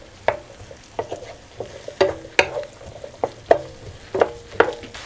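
Celery and onion sauté in a pan in an RV kitchen, a soft sizzle under repeated sharp scrapes and taps of a utensil stirring against the pan at an uneven rhythm, close by with no talk.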